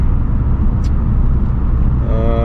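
A car with a new COBB rear motor mount, heard from inside as the engine drones loudly and steadily through a downshift, with a brief higher rise near the end as the revs climb.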